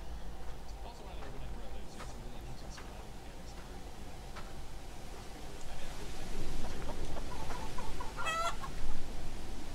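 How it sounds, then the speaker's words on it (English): Short chicken clucks repeat in a loose pattern over low game ambience in the Japanese horror video game Hollow Cocoon (Utsuro Mayu); a quick rattling cluck comes near the end and some talking is heard. "Oh, chickens."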